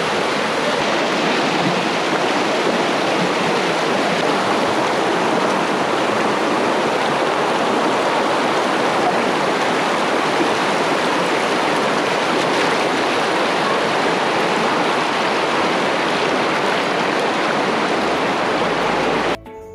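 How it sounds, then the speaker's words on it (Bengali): Natural stream water at Daringbadi rushes and splashes in a steady, loud, dense roar that stays constant and close for the whole span, with no talk, ending abruptly near the close. "এখানের যে জলের আওয়াজ কতটা সুন্দর লাগছে"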